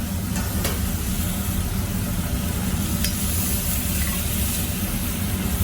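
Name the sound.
food sizzling while cooking in a pan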